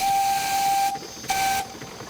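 A historic steamboat built in 1900 and restored for work on a Midlands canal sounds its steam whistle in two loud blasts. Each blast is a clear hissing tone, the second one shorter, with a brief break between them.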